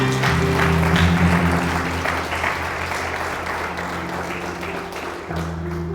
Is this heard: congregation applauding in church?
yes